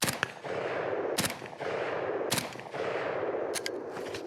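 A Galil ACE GEN 2 rifle in 7.62x39 fires four loud, sharp shots spaced roughly a second apart, each a crisp crack with a short outdoor echo trailing off.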